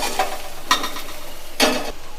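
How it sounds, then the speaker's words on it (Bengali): Lentils fry with ginger and garlic in a pan, giving a soft continuous sizzle punctuated by three bursts of scraping stirring at a close, moderate level. "এবার ডালটা মোটামুটি আদা রসুনের ভাজা হয়ে এসেছে"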